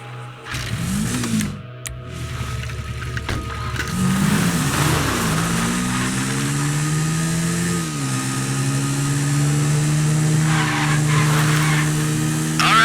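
A car engine in GTA V revs and accelerates through rising gear shifts, loud and continuous, with a tire skid near the start and game-like engine tones.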